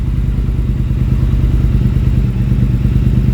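A Triumph Speed Twin motorcycle engine idles steadily nearby, a low, even throbbing rumble with a slight irregular pulse and no voices.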